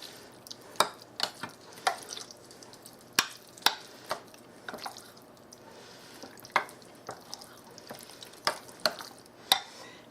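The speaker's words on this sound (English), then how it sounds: "I'm going to stir all this together." Pork chops and rice mixture being stirred in a pot, a series of sharp, irregular spoon clinks and scrapes against the pot over a faint background, heard close.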